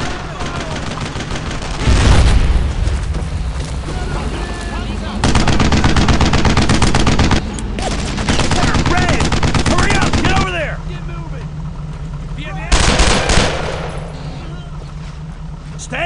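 Dense gunfire from a World War II squad shooter, Brothers in Arms: Road to Hill 30, with rapid automatic bursts and loud shots repeating throughout, several heavier surges, and game voices shouting over the battle.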